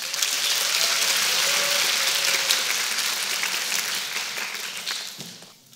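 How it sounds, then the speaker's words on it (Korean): An audience claps for the student who demonstrated a flying robot at a talk, dense steady applause from a sizable crowd filling the room, thinning and fading out near the end. "그 시연을 맡아준 박철호 학생에게 박수 부탁드립니다"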